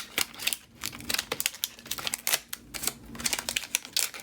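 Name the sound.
new dollar store scissors cutting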